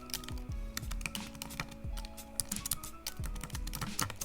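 Quiet, rapid keystrokes on a computer keyboard, a steady patter of clicks and taps with no talking.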